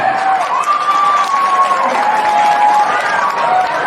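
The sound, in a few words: audience applause at a school event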